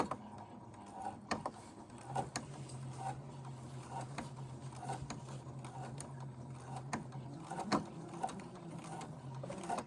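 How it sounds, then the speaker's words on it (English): A sewing machine backstitching while hemming pants, a faint low whirring hum broken by soft mechanical clicks and taps at irregular intervals, heard close with no talking. "We're going to go backwards and lock in those stitches."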